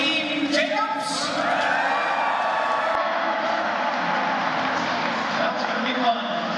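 Crowd cheering and whooping for Team Jacobs at a curling event, a lively arena roar with high yells rising early, then a steady sustained cheer from a sizable audience.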